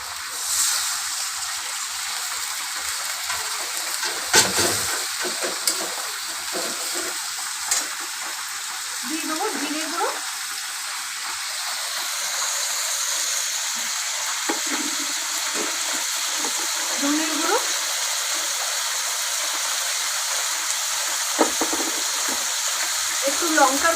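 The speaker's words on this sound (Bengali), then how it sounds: "মশলাটা কষে নেবো একটুখানি সামান্য জল দিলাম" A spice paste for shrimp khichuri fries in a pan with a splash of water, giving a steady, loud hiss and sizzle throughout, with occasional stirring scrapes up close.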